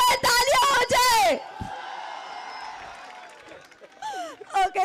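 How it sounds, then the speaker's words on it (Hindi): Crowd applause and cheering at a cricket match spread in a broad wash through the middle of the clip, between bursts of loud talking at the start and end. "एक बार जोर तालियां हो जाए।"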